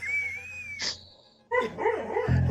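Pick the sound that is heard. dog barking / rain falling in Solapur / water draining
dog barking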